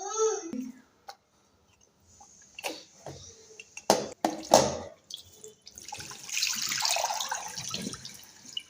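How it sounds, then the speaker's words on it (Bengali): Fruit being washed under a running tap at home, with scattered clinks and handling noises before a steady splash of water near the end, while a voice babbles faintly at the start. "ফল ধুতে এত টাইম লাগে?"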